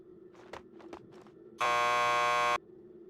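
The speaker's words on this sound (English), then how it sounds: "Just press the buzzer by the door." Door buzzer in the Max Payne 2 video game, a single loud harsh electric buzz lasting about a second, preceded by a few soft footsteps.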